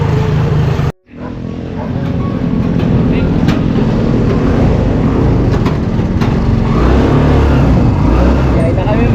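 A tricycle engine drones steadily through a short ride, loud and close after a brief dropout near the start, with a constant motor rumble and road noise throughout.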